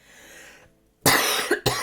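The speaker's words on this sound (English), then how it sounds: "I'm going to cough a lot during this video" Indoors, one person coughs hard and close, a loud burst followed by a couple of further short hacking coughs and throat noise, after a brief lull in faint room sound.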